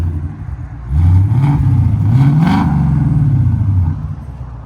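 A 2024 Ford Mustang GT with a 5.0L V8 and Valvetronic Designs mufflers, valves closed, revs once from idle: a deep, loud, close rumble climbs and falls back, then settles.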